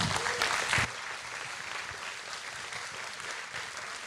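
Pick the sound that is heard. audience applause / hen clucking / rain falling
audience applause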